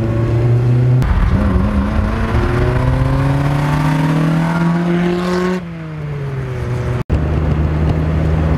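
The K-series engine of a 2005 Honda Civic Si revs loudly and close up, pitch climbing steadily through the revs before a quick drop and a shift to a lower, steady drone.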